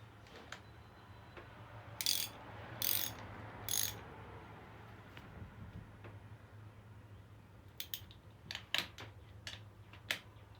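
A wrench working the bolts on a 1994 Yamaha XT350 motorcycle, giving a few short bursts of ratcheting clicks, then a scattered series of faint metallic ticks, close and fairly quiet.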